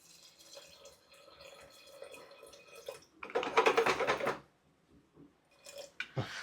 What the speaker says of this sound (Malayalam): ഇനി ഇതിനകത്തേക്ക് ആവശ്യത്തിന് വെള്ളം ഒഴിച്ചു കൊടുക്കുക